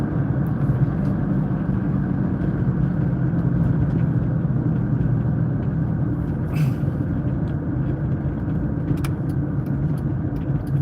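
Car driving along the M20 highway in Michigan, heard from inside as a steady, loud low road-and-engine rumble that continues unbroken throughout.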